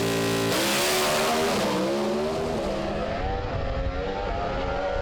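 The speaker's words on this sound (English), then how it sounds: "Deckett's got out pretty smartly, but it looks like Daly's going to have the horsepower to take the win." Drag racing cars launch down the strip at a New Year Thunder meet at Willowbank Raceway, one entered as the Unique Body Smash Repairs car, a loud continuous engine roar rising in pitch as they accelerate away.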